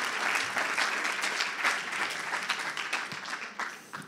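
Audience applause fills a conference hall after a question session, a dense, steady clapping that stays loud and even, then thins slightly toward the end.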